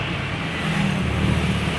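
Road traffic in Denpasar, Bali, on a quieter-than-usual election day: a steady wash of car and motorbike engines passing nearby, with a slight rise in engine noise partway through and no talking.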